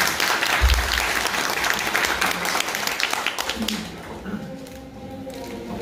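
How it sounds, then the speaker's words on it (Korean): An audience at a blockchain meetup claps warmly as a speaker comes on stage, dense applause that fades toward the end as a voice begins. "나오실 때 뜨거운 박수 부탁드리겠습니다."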